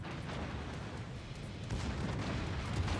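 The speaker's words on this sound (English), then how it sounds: "another massive hit from the stern turrets" Naval guns fire from a warship's stern turrets in the World of Warships game during a King of the Sea playoff quarterfinal, heard as a dense, rumbling barrage of booms that swells slightly toward the end.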